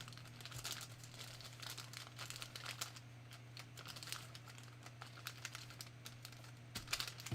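Fabric being folded and handled for a wrap top: soft crinkling rustles and light crackles in quick, irregular bursts, close by and quiet, over a low steady hum.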